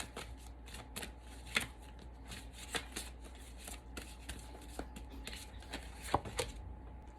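Oracle cards being shuffled by hand: a quiet, steady run of soft riffling taps and snaps, with a few sharper slaps, and no voices.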